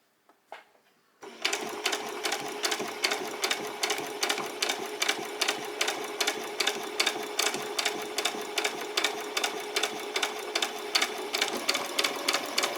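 A domestic sewing machine stitches a dress bodice in a steady, close rapid clatter after a brief start, running evenly without pause; no voices.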